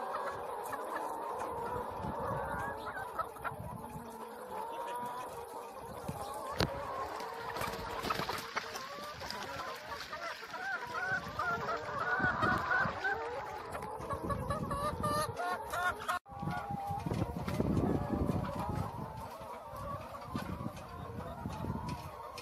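Chickens cluck and chatter continuously at a trough while drinking milk on a rural farm, a dense flock sound that stays close and steady throughout.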